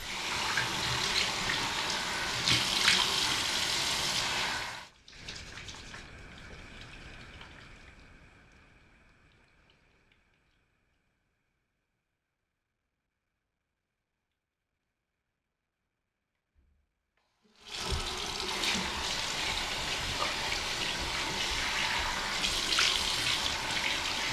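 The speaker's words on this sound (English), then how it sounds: "I'm just going to wet my face with medium warm water" Running tap water at a bathroom sink while a face is wetted with medium warm water, a steady close splashing stream that stops partway through, leaves a stretch of near silence, then starts again at full strength.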